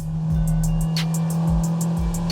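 A 2002 Honda S2000 engine growls loudly and steadily, with rising and falling revs and rushing wind, heard close up with the top down.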